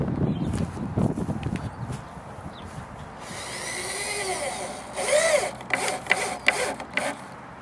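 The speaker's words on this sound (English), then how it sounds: "So now we're going to just put the screws in that third one that we didn't finish up." A power drill drives screws into 2x4 lumber on a greenhouse frame, with several short whirring bursts and pauses between them, close by and fairly loud, alongside clattering handling noises.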